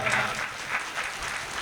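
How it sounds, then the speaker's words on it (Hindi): An audience at a mushaira claps, a fairly faint but continuous patter of hands that lasts the whole moment with no other sound. "कमजोर है, तालियां कमजोर"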